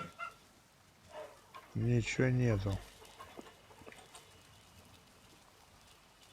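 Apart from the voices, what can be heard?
chickens clucking in video game Life is Feudal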